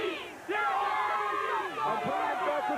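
A crowd of Virginia Tech fans at the Gator Bowl shouts the Hokie cheer in unison, a loud rhythmic chant of rising and falling voices up close after a short quieter start.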